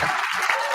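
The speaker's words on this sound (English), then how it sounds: "Everybody clap hands for Eddie." An audience clapping hands, a brief dense burst of steady applause.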